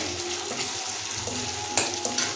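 Chopped tomato and green chilli frying for a soybean masala curry, with a continuous close sizzle and occasional stirring scrapes and clinks.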